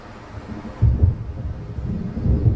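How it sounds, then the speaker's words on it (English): An approaching thunderstorm rumbles in the video game Alan Wake Remastered, low deep rolling thunder with a couple of heavier swells, moderately loud and continuous without voices. "It seems there's a storm coming."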